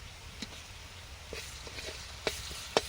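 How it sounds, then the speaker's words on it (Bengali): Garlic paste dropping into a pan of frying onions, a soft continuous sizzle with a few stirring scrapes and two sharper clinks near the end, no talking. "পেঁয়াজটা ভাজা হয়ে গেছে। এবারে দিচ্ছি রসুন, রসুন বাটা।"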